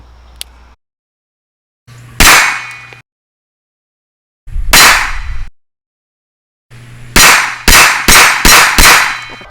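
A Springfield 911 pistol fires at an outdoor range: one shot, a pause, another, then a rapid string of about five sharp cracks, loud and close, each ringing briefly.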